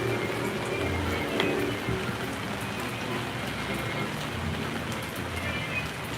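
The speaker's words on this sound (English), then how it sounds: "while it's raining." Steady rain falling and pattering on surfaces at the Kings Dominion amusement park, a constant hiss with occasional louder drops, no voices.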